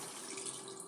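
Water poured into tomato paste in a cooking pot while making dolma, a steady continuous splashing stream, close and fairly quiet, with no talking.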